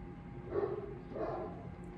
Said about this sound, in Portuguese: Porque esse bichinho não parava de latir. Ó, cachorro.